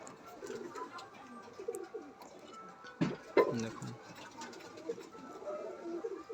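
Pigeons coo in a home loft, soft low throaty calls repeating at intervals with a louder burst midway, close by over faint background ticking.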